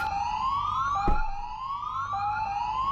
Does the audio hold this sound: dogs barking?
no